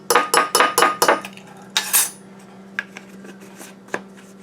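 A metal spoon scrapes and taps rhythmically in a jar of finely ground spice powder, a quick run of scoops at close range followed by a few scattered clinks.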